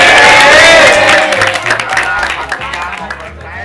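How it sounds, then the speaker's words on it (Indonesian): Tour group clapping for a humorous guide during a heritage tour of a Javanese palace complex in Central Java, a dense burst of hands that thins out over a few seconds, mixed with cheers and voices. "Mantap, tepuk tangan."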